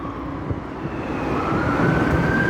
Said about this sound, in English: when you hear the sirens of